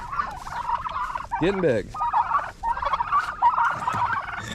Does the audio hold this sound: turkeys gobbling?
yes